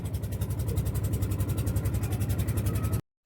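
A river boat's engine chugs steadily in a fast, even pulsing rhythm, heard close and continuous before cutting out abruptly near the end.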